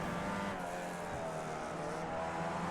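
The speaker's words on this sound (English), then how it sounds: "Hard braking into the hairpin." Race car braking hard into the hairpin at Okayama International in the Champion Motorsports racing game: a steady, loud engine drone with faint tire noise running continuously, no voices.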